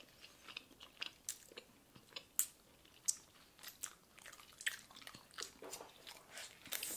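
Soft wet chewing and crunching of wax bottle candy, close to the mic, with irregular small bites and squishes spaced through the stretch and no talking.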